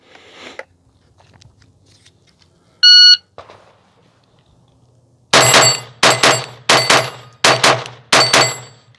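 At a pistol range, a shot timer gives one short, sharp electronic beep after some faint handling noise. Moments later a Glock 44 fires five rapid, evenly spaced, loud shots.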